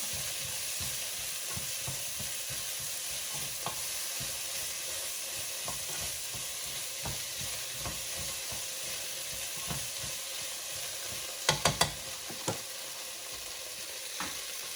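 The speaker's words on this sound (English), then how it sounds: "Stir that up" Braised Southern-style oxtails being stirred in a pot, a steady close sizzle with a constant scraping churn, and a few sharp utensil clacks near the end, no voices.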